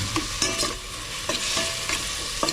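Ingredients sautéing in a pan, a continuous loud sizzle with repeated scraping stirs every half second or so, close up and with no talk.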